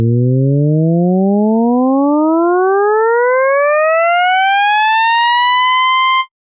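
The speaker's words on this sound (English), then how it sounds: "Look at this synth sound, which contains the first 4 harmonics" A synthesizer tone built from its first four harmonics glides smoothly upward in pitch over several seconds, a loud, steady, pure-toned sweep heard alone that sounds almost siren-like.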